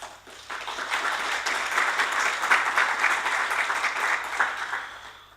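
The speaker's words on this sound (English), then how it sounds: "Big applause." Conference audience breaks into sustained applause, a dense wash of many hands clapping for several seconds in a large hall before tapering off.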